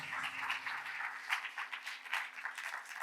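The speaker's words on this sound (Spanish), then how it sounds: "con un fuerte aplauso, demos la bienvenida al pastor Cristian" A church congregation applauds in welcome of the pastor, a steady patter of many hands clapping that sounds somewhat distant and fairly faint, with no voices standing out.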